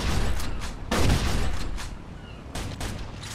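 Rapid bursts of gunfire in the video game Mafia 2, loud and close, crackling in clusters with brief gaps between volleys.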